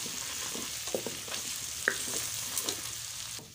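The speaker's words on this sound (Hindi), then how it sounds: "घी हमारा गर्म हो चुका है इसमें जो है हम अदरक और लहसुन का पेस्ट शामिल करेंगे" Ginger and garlic paste fries in hot ghee for pav bhaji with a soft, steady sizzle, broken by a few light stirring clicks and taps.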